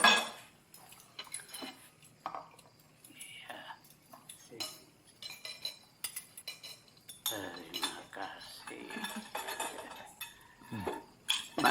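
Spoons and cutlery clink against plates and dishes at a family meal table. The light taps and chinks come in scattered bursts, close by, mixed with quiet conversation.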